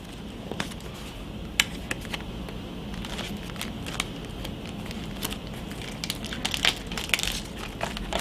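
Little plastic bags holding embroidery floss get handled and crinkled close up, making a steady stream of soft rustles broken by sharper crackling snaps, with no talking.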